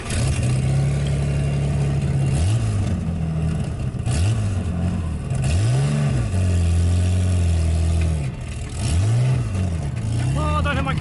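A cammed VP Lexen at an abandoned speedway revs repeatedly, its loud lumpy engine note rising and falling in several sweeping pulls over a steady rough idle, close up and dominating throughout.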